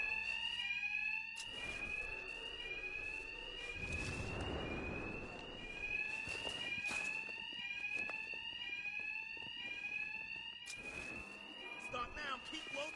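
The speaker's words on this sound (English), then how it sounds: "Two-Face's thugs won't hear me over the alarm." A loud, repeating electronic alarm blares in Batman Arkham Knight, its rising tones cycling steadily without pause, mixed with game noise and scattered thuds of a fight.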